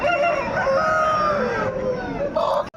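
A rooster crows loudly and close at the Pileru chicken market, one long wavering cock-a-doodle-doo that trails off, followed by a brief clucking note at the end.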